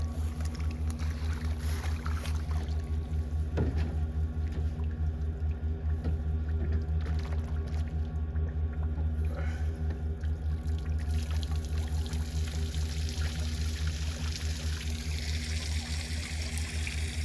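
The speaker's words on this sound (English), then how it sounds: "Before I start releasing the water." Water rushes out of a tank to release endangered c'waam and koptu suckers into a river, a steady, continuous pouring and trickling that stays even throughout with no speech.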